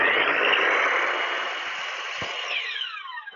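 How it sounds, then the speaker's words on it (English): A miter saw cuts through the edge of a board for a coaster box: a loud, steady cutting roar and whine, then the blade winds down with a falling whine. "So we'll use the miter saw."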